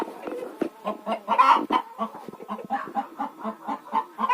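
A hen clucking inside a village henhouse shed with windows, a close, repeated rhythmic run of clucks and soft calls with no one speaking.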